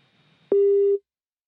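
A single telephone busy-signal tone on a failed call, one steady beep lasting about half a second after a brief click, loud and clean against silence.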